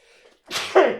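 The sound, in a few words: sneeze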